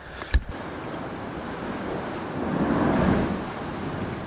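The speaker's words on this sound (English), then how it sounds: "And the waves come in, man." Ocean waves surge and break against a rocky coast below a cliffside road, a steady wash of surf with a swelling crash midway, heard alone with wind rushing over the microphone.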